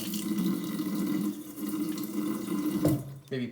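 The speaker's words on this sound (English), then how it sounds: "I'll blow through about maybe a liter, and then I'll flip it around to back flush it" Water streams steadily through a lightweight three-stage backpacking gravity filter during a back flush, a close, continuous gushing that trails off into a few splashes and drips near the end.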